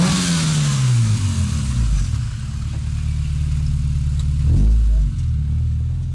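A 200 whp Honda B16 street car engine revving loudly nearby, its tone rising and falling through several steady throttle blips, with no voices over it.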